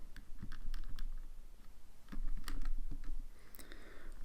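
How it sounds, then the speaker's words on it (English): Numbers being keyed into a calculator: a quick run of light, irregular button taps over about four seconds against a low background hum, close by and with no voices. "So I'll type this in my calculator."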